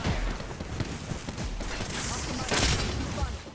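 Rapid gunfire from an Apex Legends match plays as a dense, loud, continuous barrage of shots and mechanical clatter.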